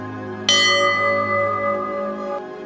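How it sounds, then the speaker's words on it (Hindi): A single struck bell rings out loud and close, its bright metallic tone sustaining and slowly fading over a couple of seconds with a faint second tap near the end. "और पीछे से घंटी की आवाज आती है।"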